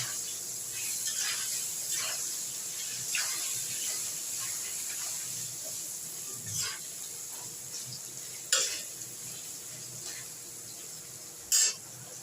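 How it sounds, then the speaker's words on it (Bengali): Pumpkin pieces are stirred as they fry in a pan, making a steady close sizzle broken by occasional scraping strokes and a few sharper clinks of the spatula against the pan, with no talk. "কুমড়োগুলো দিয়ে একটু নাড়াচাড়া করেই আমি অন্য সবজিগুলোও দিয়ে দেবো"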